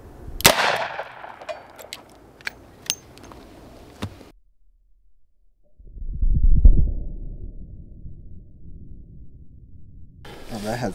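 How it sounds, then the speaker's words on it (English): A .357 Magnum revolver fires a 158-grain jacketed soft point round into an armor plate, giving one sharp near crack with a brief ring and a few follow-up clatters, then a low dull rumble after a gap of silence. "Going to be shooting 158 grain jacketed soft point."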